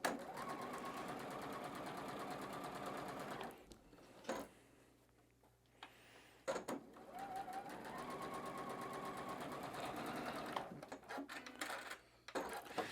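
Sewing machine running quarter-inch seams on batik fabric squares, a steady close mechanical whir in long bursts with brief pauses between seams.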